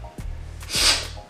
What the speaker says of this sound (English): Oh, I got the sniffles, you guys.